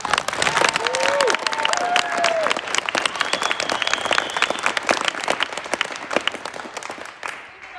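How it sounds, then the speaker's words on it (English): An audience at a children's theater production claps steadily and warmly, a dense round of applause with a few whistles near the start, fading out toward the end. "Let's give them another big round of applause."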